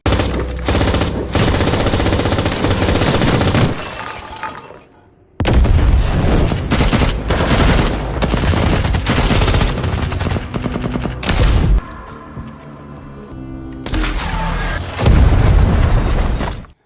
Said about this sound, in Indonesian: Baku tembak besar pun terjadi.